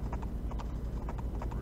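Cavalry hooves in an Age of Empires 2vs2 strategy match clatter in a steady, rhythmic clip-clop of several horses moving together, loud and continuous, with a faint whinny and no talking.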